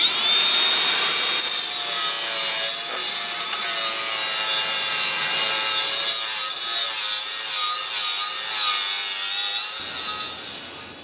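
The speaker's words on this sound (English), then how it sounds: "Using a flap disc, you can grind metal or even clean up the edge of a piece of pipe before you weld it." A Makita XAG03 18V brushless 4-1/2 inch cordless angle grinder with a flap disc grinds metal in a steady, close, loud high whine with a rasping edge that shifts slightly in pitch.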